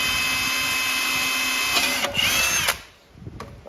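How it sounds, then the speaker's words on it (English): A power drill bores holes into a cracked Ram 2500 68RFE transmission case, a loud steady whine that runs for about two seconds, then drops off and ends with a few brief bursts. "I'm drilling these holes to make sure that these cracks stop."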